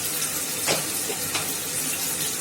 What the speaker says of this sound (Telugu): వేసుకొని కాసేపు ఫ్రై చేయాలి.